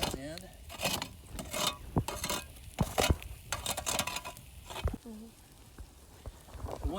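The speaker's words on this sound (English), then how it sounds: "then I've got some fresh coals here that I can use. So I'll just sort of slide them over." Fresh charcoal coals are slid and mixed over a grill for an Argentine asado, producing irregular scraping and crunching clatters up close, with someone talking intermittently over them.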